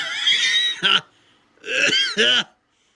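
Two short bursts of harsh throat noise, a rough cough or throat-clear, close up, each following a stretch of bright, noisy voicing.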